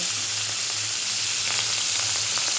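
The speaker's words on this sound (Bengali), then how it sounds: "হ্যাঁ, তেল গরম হয়েছে, একটু চন্দনী ফোড়ন দিয়ে দিলাম।" Spices hit hot oil and sizzle continuously, a loud, dense crackling hiss with faint popping throughout and no voices.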